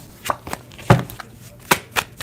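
Tarot cards shuffled by hand during a live reading, a series of soft irregular slaps and riffling taps, close and moderately loud, with no talk.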